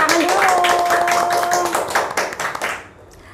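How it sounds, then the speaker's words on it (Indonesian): A small group claps hands at the close of a student council podcast session, a brisk patter of clapping with a sustained tone underneath early on, fading out after about two and a half seconds. "Tepuk tangan dulu."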